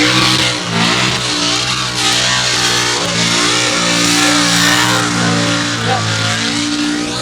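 A 900 horsepower E85-fuelled speedway car revs hard at Waikaraka Park Speedway, a loud, continuous, surging engine roar with rising and falling pitch that never lets up.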